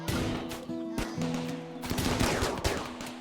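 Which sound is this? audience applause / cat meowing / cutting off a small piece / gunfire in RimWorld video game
gunfire in RimWorld video game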